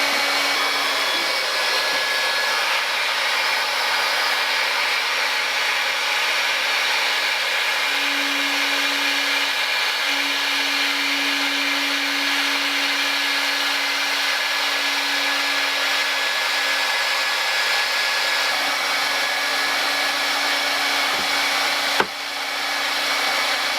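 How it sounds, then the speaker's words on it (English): Welding the front onto a DIY pond skimmer gives a loud, continuous hiss and roar that holds steady for over twenty seconds, ending in a sharp click near the end. "So now I'm going to weld the front on."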